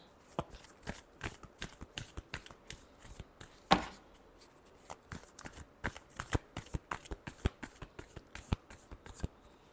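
Tarot cards shuffled by hand, a rapid run of crisp slapping riffles and flicks repeating across the whole stretch, close and clear with one louder snap partway through.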